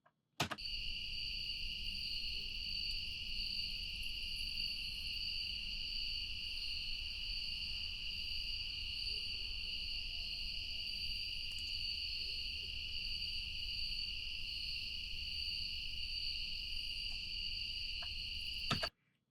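Insects chirp in a steady, unbroken high drone across a raw night field recording, a dense and constant chorus that holds loud and even from start to finish with no voices.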